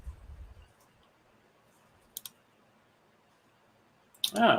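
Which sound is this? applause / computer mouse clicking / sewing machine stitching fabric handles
computer mouse clicking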